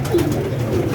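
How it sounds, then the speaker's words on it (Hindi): Pigeons on a rooftop coop cooing softly in a couple of brief low calls, close by over a steady background noise. "अब ये कबूतर देखिए आप, ये हमारे घर का पट्टा है, ये देखिए।"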